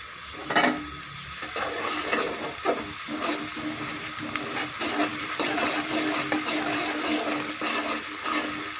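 Crushed ginger frying in a pan for a chicken and beetroot curry, a steady loud sizzle throughout with occasional stirring scrapes and bumps.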